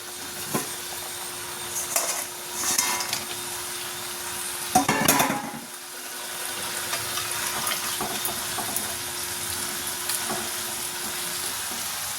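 Snakehead fish curry gravy with potatoes cooks in a pan, a continuous bubbling sizzle with a few louder bursts of stirring and pan clatter in the first half, then a steady low simmer, no speech.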